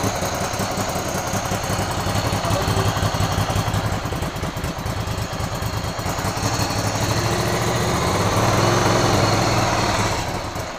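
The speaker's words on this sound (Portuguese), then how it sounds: "Agora eu tô achando o motor menos barulhento." A restored Ducati Cagiva Elefant 900 motorcycle engine idles close by with a steady, fast mechanical putter that swells slightly toward the end. No one speaks.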